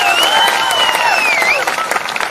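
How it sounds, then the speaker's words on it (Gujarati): Crowd applauding at a political rally in Nandod, a loud dense wash of clapping with cheering and whistles riding on top, kept up steadily throughout. "એમના માટે પણ જોરદાર તાળીઓ પાડો।"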